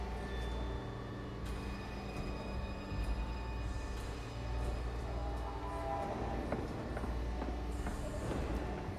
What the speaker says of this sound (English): The train car is their delivery system.